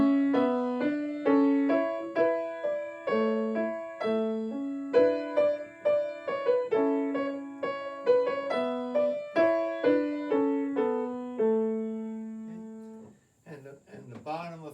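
Piano plays Row, Row, Row Your Boat in A as a round, the left hand entering after the melody so the two lines overlap in a steady, clear rhythm, ending with a brief spoken voice.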